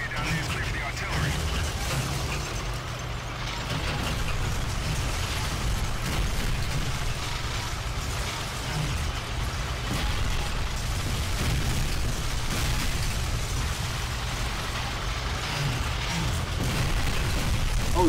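Artillery explosions in the World War II video game Call of Duty: Finest Hour, a continuous rumbling barrage of booms and bursts that stays dense and steady throughout, with battle noise layered on top.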